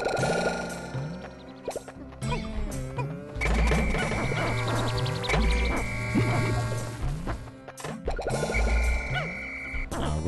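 Frogs croak and plop in the video game Pikmin, with repeated bouncy croaks and splashy thumps over busy, melodic game music.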